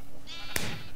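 A Minecraft sheep gives a single short bleat, close and clear, above a low game background hum.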